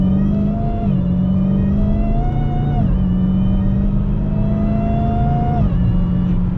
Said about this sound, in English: I love a good supercharger whine.